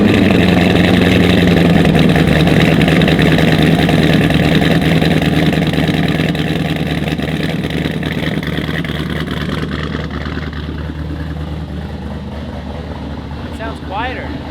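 A C6 Z06 Corvette idles close by in a steady, loud rumble that fades slightly toward the end, with no pauses and the engine note continuing throughout.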